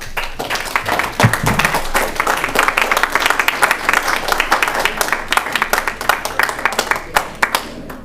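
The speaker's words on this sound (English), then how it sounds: "Give her a round of applause." Applause and clapping from people at a city council meeting fill the room, steady and fairly loud throughout, with a few voices mixed in.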